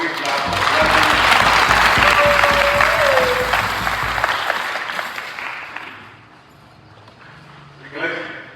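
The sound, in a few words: audience applauding for the clergy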